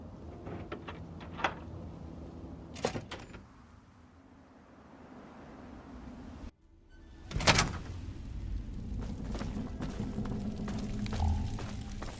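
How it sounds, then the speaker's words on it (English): Heavy outer doors unlock and grind open in the Fallout 3 video game, with a few sharp mechanical clunks followed by a deep rumbling slide and a low motor hum fading out. "Unlocking outer doors."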